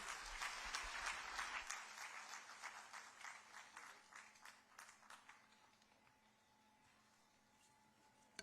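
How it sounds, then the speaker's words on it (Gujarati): Sustained applause from a large audience welcoming Gujarat's chief minister at a government launch event for artisans and craftspeople; loud clapping from the start that gradually fades over several seconds, with no speech. "આવો જોરદાર તાળીઓ સાથે આમંત્રિત કરીએ"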